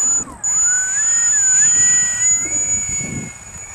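A small electric motor on a radio-controlled foam glider airplane whines overhead in flight, its pitch rising and falling as the plane maneuvers, fairly close and loud throughout.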